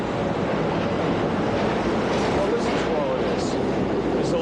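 A subway train runs underground with a loud, continuous rumble and clatter. Brief high squeals rise near the end, and a voice carries faintly beneath the noise.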